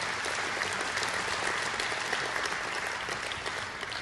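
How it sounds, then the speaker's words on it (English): An audience at a regional economic outlook keynote claps steadily, a dense continuous patter of many hands at moderate loudness that tapers slightly toward the end. "Let's give them all a great round of applause."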